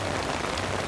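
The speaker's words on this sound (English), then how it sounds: "It's kind of a unique opportunity to record a heavy downpour in a city that I've never recorded in before." Heavy rain pours down on a city street in Osaka's Dotonbori area, a dense, steady hiss of drops hitting pavement and surfaces, loud and close throughout.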